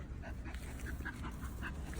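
Low, rough grunting from a pig close by during a home inspection walkthrough, repeated in short bursts over a steady background hum.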